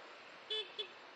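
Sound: car horn honking while driving

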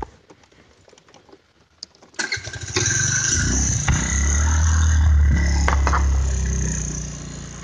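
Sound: Gator 50 moped engine running

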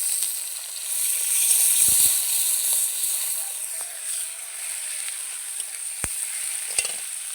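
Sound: onion and green chillies frying in oil

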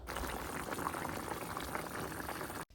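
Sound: fish curry broth with potato simmering in pot

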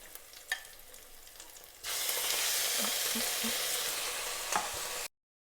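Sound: pork frying in a pan

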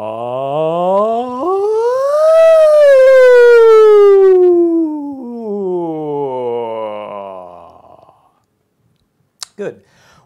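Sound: choir voices imitating a siren

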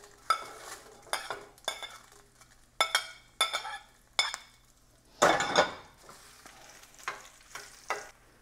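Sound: frying guajillo chiles in hot oil

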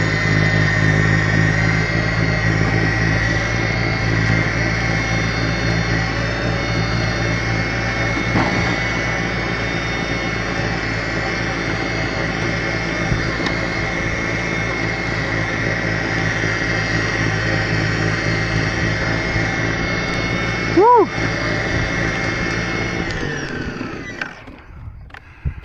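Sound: Ego 56V electric snowblower running at full turbo

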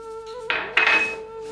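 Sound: mixing potato wedges with salt in a bowl

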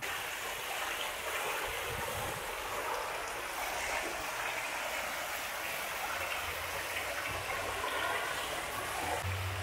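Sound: water play fountains in a park

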